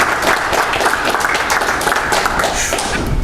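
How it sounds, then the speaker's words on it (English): An audience applauds for Will Brooks, steady dense clapping from a crowd that keeps on without a break, with some soft thuds mixed into the continuous patter. "Let's give him a big hand"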